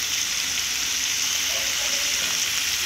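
Beetroot being stirred in a frying pan, a constant close hiss of frying with faint stirring movement underneath and no clear talking.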